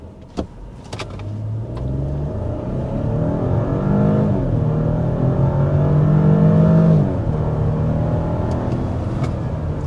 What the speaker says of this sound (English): we do want to go ahead and start with a hard acceleration